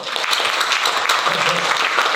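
An audience at a National Assembly forum on Korean corporate competitiveness breaks into dense, sustained applause for a pastor after a speech. The clapping is loud and close and continues evenly for the whole moment, with a faint voice beneath.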